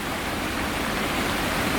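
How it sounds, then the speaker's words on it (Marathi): Nar river in flood, water pouring forcefully over a newly built dam with spray rising like mist, a steady loud roaring rush with no pauses. "एवढे तुषार जोराने पाणी पडतं आहे"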